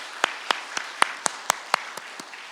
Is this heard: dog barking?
no